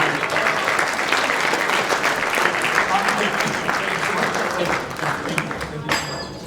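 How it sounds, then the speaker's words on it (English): A conference crowd applauds a keynote speaker, dense sustained clapping that fills the room evenly before tapering slightly near the end. "please give a round of applause for Helix"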